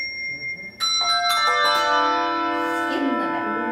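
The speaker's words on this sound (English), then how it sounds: "I'd like you to ring the bell" A bell struck once in a classroom, a bright metallic strike followed by a long shimmering ring that sustains and slowly decays, clear and alone with no talking.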